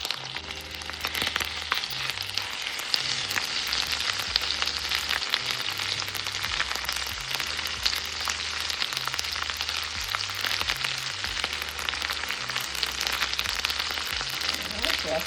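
Green seasoning and chopped onion frying in melted fat for Haitian djon djon black rice, giving a loud, steady, dense sizzle with constant crackle throughout and no talking.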